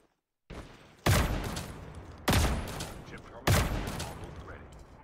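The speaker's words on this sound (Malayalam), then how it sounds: "എവിടെന്നു സ്നൈപ്പർ അടിക്കുന്നത്?" Three loud, sharp sniper rifle shots in the video game Call of Duty Mobile, spaced about a second apart, each followed by a decaying echo tail over faint background talk.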